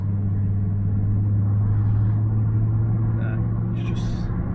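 A Nissan GT-R R35 on the move gives a steady, close engine drone with a deep, even low rumble that holds for the whole stretch, with no clear revving.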